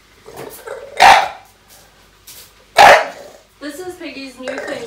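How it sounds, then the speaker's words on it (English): A dog barks loudly twice in sharp, close bursts during play, then growls and grumbles in a low drawn-out rumble indoors. "He barks at us horribly."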